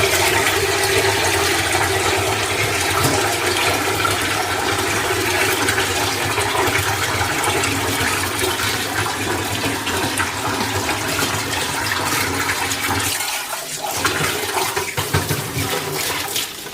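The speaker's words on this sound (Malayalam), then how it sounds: "ഇച്ചിരി വെള്ളം ഒഴിക്കാം." Water runs and splashes steadily into an old kitchen sink, a continuous broadband rush that stays loud and close for most of the stretch before briefly dropping near the end, with no one speaking.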